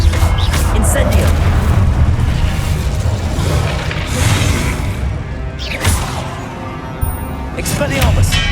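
Fire spell cast during Hogwarts Legacy gameplay, heard as booming whooshes and bursts over a dense game mix, with a couple of sharper hits near the end.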